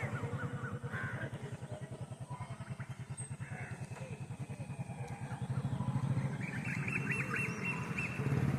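Peacocks call around a village in the morning at Nerur, with repeated honking cries at a moderate distance over a steady low rumble that sounds like a nearby motor idling.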